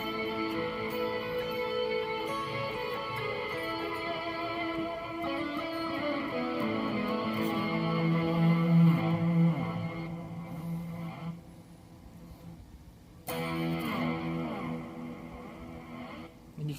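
Sustained guitar notes through digital delay, reverse delay and vibropan reverb wash together with long echoing repeats and a lush reverb tail, briefly thinning out before swelling back in.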